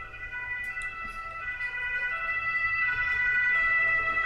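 Ambulance siren drifting in from outside through an open window, a steady wailing tone that grows louder and closer over a few seconds, with no talking.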